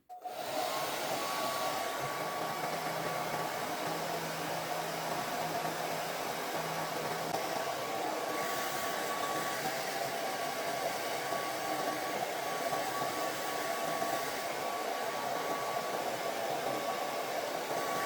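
A hair dryer blows steadily and loudly for the whole stretch while hair is styled into a voluminous 90s-style blowout, a constant close-up whoosh with no talking.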